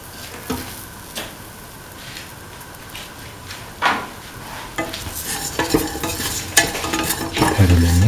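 Spices are stirred with garlic, ginger and shallots in a hot pan, giving repeated scraping strokes over a steady sizzle that grows louder toward the end, with occasional utensil knocks.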